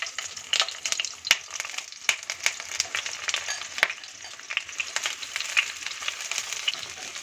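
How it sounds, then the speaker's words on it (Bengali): Salted pointed gourd pieces frying in hot mustard oil, a steady high sizzle and crackle with sharp pops and occasional scrapes of stirring, fairly soft and close with no voices. "এবার নুন মাখানো পটলগুলো তেলে ছেড়ে দিচ্ছি।"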